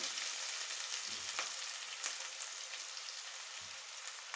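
Curry leaves and onions fry in hot oil with a soft, continuous close sizzle and a couple of faint stirring clinks.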